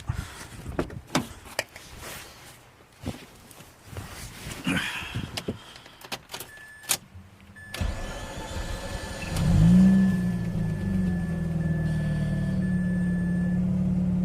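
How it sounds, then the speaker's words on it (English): Mazda RX8 rotary engine starts after a run of clicks and thumps, then settles into a steady, close idle with a smooth, buzzy hum and a faint whine above it. "That's the sounds of a rotary."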